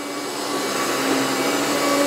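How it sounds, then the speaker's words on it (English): Hoover ONEPWR Evolve Pet Elite cordless upright vacuum cleaner runs on carpet, a steady close whirring roar with airy hiss and no breaks. "That's a very nice vacuum cleaner. It's not super loud, but I can tell it's got a lot of suction power."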